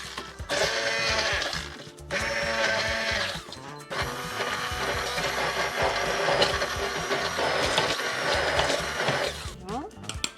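A kitchen blender whirs loudly as it purees sorrel pesto sauce, running in bursts with a brief stop and then a long continuous grind.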